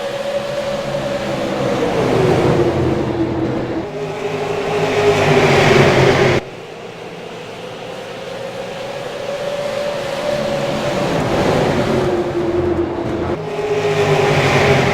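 Super late model race cars at Richmond International Raceway take the green flag, their engines roaring loudly together in a sustained, rising drone that swells, dips abruptly and builds again as the field accelerates past.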